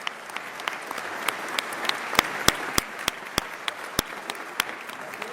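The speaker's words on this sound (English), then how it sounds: "Clap twice if you agree." Scattered audience claps at the Idaho governor's State of the State address ring out as sharp, separate claps, irregular and slowly building in density, in a quiet hall.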